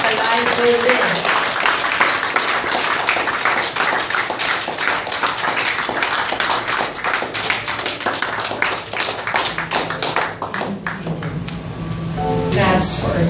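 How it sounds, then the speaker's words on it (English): Mourners at a wake applaud as the casket is moved in, a long stretch of dense clapping that fades late, with some chatter and a faint tonal ping near the end. "how about giving her a big round of applause for giving us a life visit."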